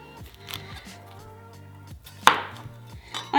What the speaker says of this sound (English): what we're gonna do is chop up some onion